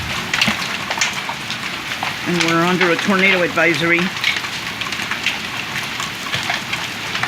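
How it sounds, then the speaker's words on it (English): Huge hail pours down during a storm under a tornado advisory, a dense, steady pattering roar throughout while a person speaks briefly in the middle. "there's huge hail falling."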